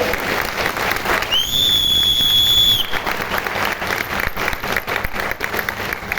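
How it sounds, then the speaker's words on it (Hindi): Loud crowd applause with a shrill sustained whistle partway through, cheering management at a Vestige company gathering in Odisha, dense and continuous throughout. "और एक बार जोरदार तालियां चाहिए हमारे मैनेजमेंट के लिए।"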